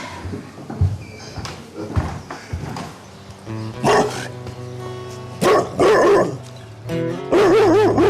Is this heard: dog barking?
yes